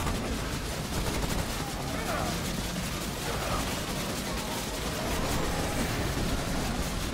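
Sustained heavy gunfire in the video game Remnant on a final boss fight, a dense, continuous roar of rapid shots with little break across the whole stretch.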